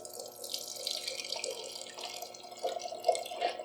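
Spiced rum punch is poured into mugs topped with blueberries, a steady splashing liquid stream running for several seconds and gurgling louder near the end.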